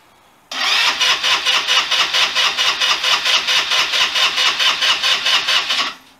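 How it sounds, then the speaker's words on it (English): A Chinese GY6 scooter engine, rewired for a naked bike setup, cranks on its starter for about five and a half seconds with loud, even, rhythmic chugging pulses and never catches. "Well, it cranks, that's good."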